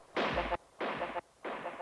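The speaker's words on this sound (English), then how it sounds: "Always need a gunshot." A gunshot sample triggered on an Akai MPC X fires three times in even succession, each a loud, booming blast with a short decay before the next hit.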